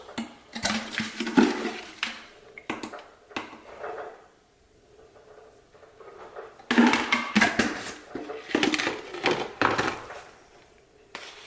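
A protein drink being mixed from powder and carbs in a shaker, heard as clustered rattling and clattering bursts separated by a quieter gap, close and fairly loud.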